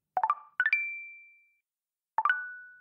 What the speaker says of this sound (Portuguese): é o som do aplicativo Tinder